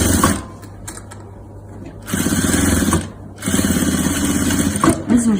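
A sewing machine stitches fabric for a 3D pillow in loud, close, rapid mechanical bursts, running in two sustained stretches with short pauses between them, while someone speaks softly over it.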